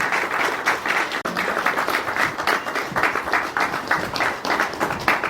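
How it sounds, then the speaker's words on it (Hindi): Enthusiastic applause at a political party gathering welcoming a candidate, a crowd's clapping that pulses in uneven waves, loud and close, continuing throughout. "जोरदार तालियों के साथ स्वागत अभिनंदन"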